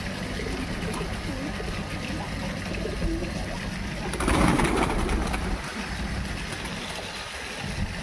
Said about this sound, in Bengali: আমার খুব ভালো লাগে পায়রাদের খাওয়াতে